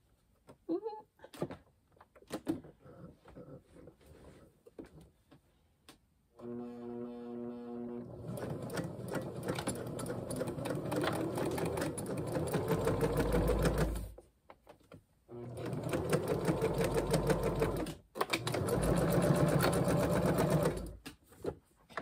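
A sewing machine runs a short seam through necktie fabric for a quilt, whirring steadily up close in two long bursts with a brief stop between, after some handling noises and a short hum at the start.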